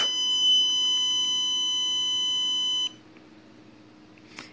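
A shock bark collar sounds a loud, steady high-pitched electronic warning tone for about three seconds, then cuts off and leaves faint room noise and a brief click.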